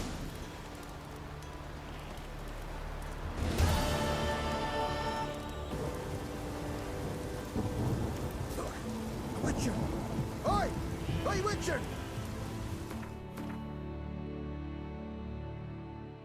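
Rain and thunder in The Witcher 3 on Skellige, a steady hiss of rainfall beneath game music and tonal effects, with rumbling swells, ending in a quieter stretch.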